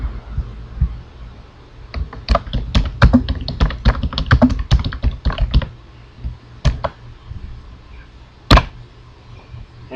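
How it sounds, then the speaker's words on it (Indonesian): Someone types on a computer keyboard, a close burst of rapid irregular key clicks followed by a few scattered taps and pauses in a quiet room. "Saya ketik."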